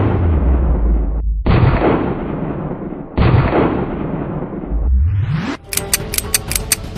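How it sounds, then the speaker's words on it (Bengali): Staged gunfire effect, heavy booming blasts in long rolling bursts separated by short gaps, ending in a rapid string of sharp cracks; loud and close with no talking. "প্যান্টে গুলি কর।"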